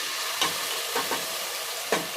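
Spice paste fries in oil with a steady close sizzle, broken by three brief scraping bursts as it is stirred.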